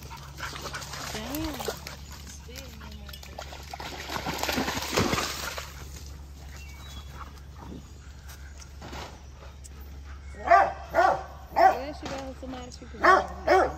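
Several dogs, including a pitbull, bark in a yard setting, a burst of four or five loud close barks near the end after a stretch of people talking and ambient noise.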